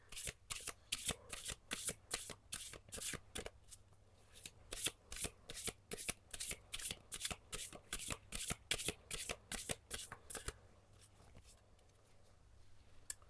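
Oracle cards being shuffled by hand, a long run of quick, crisp riffling slaps in a steady rhythm, close and clear, easing into softer rustling near the end.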